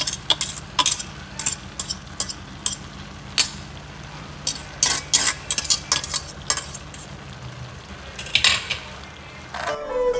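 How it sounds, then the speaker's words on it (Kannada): Boiled noodles tossed and stirred in a pan at home, with frequent clinks and scrapes of a utensil against metal in an irregular rhythm over a faint sizzle, close and clear with no talk. "ಬೇಯಿಸಿರೋ ನೂಡಲ್ಸ್ನ ಇದಕ್ಕೆ ಹಾಕೋಬೇಕು."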